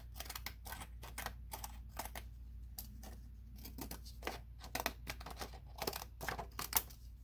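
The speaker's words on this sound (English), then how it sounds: "I'm going to attempt to do the border with these scissors again on the other side." Scissors snip a decorative border into a Polaroid note card, a rapid run of close, crisp little cuts in irregular bursts, with no speech.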